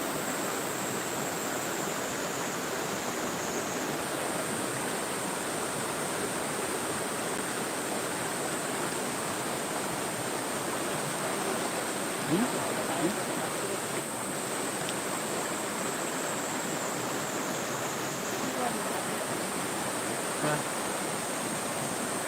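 Mountain valley stream at Ssanggok Valley in Korea, a constant broad rushing of flowing water, close and steady for the whole stretch, with no voices and only a faint high tone running above it.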